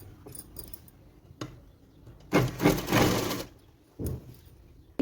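A sewing machine stitches a folded petticoat part in one steady mechanical burst of about a second, close and clear, bracketed by softer handling clicks and a shorter run near the end.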